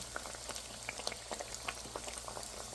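Padma gaja pastries frying slowly in oil over a low flame, a soft steady bubbling sizzle with scattered small pops and crackles, quiet and close.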